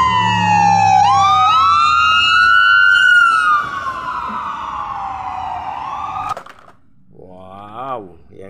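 A toy ambulance siren wails loudly up close, a rising and falling electronic tone that sweeps for several seconds, then cuts off; a voice is heard afterward.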